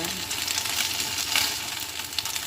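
Pork ribs frying in a little oil in a Teflon pan, a steady close crackling sizzle with faint stirring clicks and no talk.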